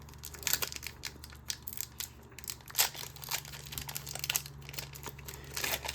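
A Pokémon card booster pack wrapper being torn open, with crinkling and tearing foil in short irregular bursts, close and fairly quiet.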